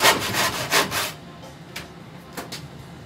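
A hand plane shaving a wooden Greenland paddle, three long loud rasping strokes in quick succession followed by a few shorter, softer passes, close up and alone.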